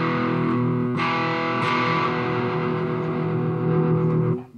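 Distorted electric guitar built from real moose bone, playing sustained, heavily saturated chords with a thick buzzing tone, loud and continuous before cutting off abruptly at the end.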